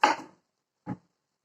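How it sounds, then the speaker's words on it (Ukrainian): Two crisp knife cuts through a young, unpeeled zucchini, the first sharper and louder, the second a softer chop after a short pause, with nothing else around them. "нарізаємо кабачок або цукіні"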